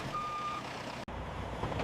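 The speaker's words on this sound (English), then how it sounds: "Once loaded, the trucks depart" A truck departing a food factory sounds a steady reversing beep as a single sustained tone over constant engine and yard rumble, followed by a sharp clunk and continuing machinery noise.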